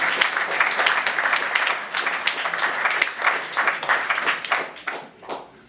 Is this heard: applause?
yes